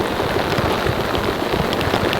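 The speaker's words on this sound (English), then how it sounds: "we've put the garden hose on, and you can see that simulating the rain" Water from a garden hose pours onto a rain tarp, making a steady, close hiss of drumming droplets like heavy rain on a taut surface, continuous and alone with no voices.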